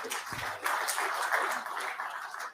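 A conference audience at a metals industry session applauds to welcome a speaker to the stage, giving a steady wash of many hands clapping at a moderate distance, level throughout and then fading at the end.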